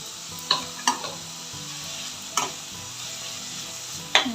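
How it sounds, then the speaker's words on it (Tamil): Mint leaves sautéing in a pan for a prawn mint gravy, a soft steady sizzle broken by several sharp scrapes and clinks of a stirring spoon, quiet and close with no talk. "நல்லா வதக்கிட்டு அரைச்சிடலாம்."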